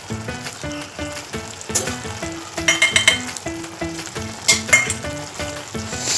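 Paneer tikka masala sizzles in a pan after garam masala, coriander and kasuri methi go in, giving a lively close frying hiss broken by stirring scrapes and light clinks of a spoon against the pan, with no talk.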